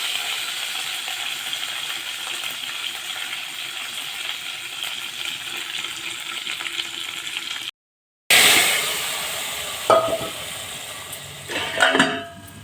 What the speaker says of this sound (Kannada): ಒಗ್ಗರಣೆ ಪಾಡ್ದ ಅಂತೂಲೆ